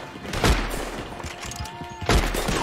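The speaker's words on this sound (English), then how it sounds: "Oh, I'm getting shot in the back." Gunfire in the Western online game Red Dead Online, two sharp heavy shots about one and a half seconds apart over a busy game background, with faint overlapping sounds between them.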